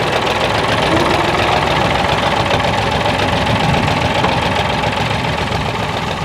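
A 1974 David Brown 885 tractor engine idles steadily nearby, a continuous loud diesel chug with a knocking rhythm and no pauses or talk.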